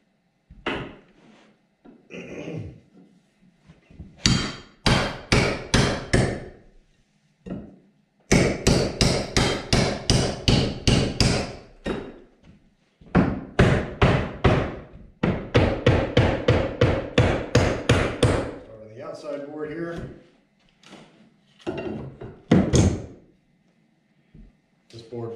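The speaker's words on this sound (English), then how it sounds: "So as far as tools on the inside, we just got a pry bar and a hammer." A hammer and pry bar work on wooden window framing inside a house, with rapid bursts of loud hammer strikes in rhythmic runs, interspersed with creaks and thuds, and some talk between the bursts.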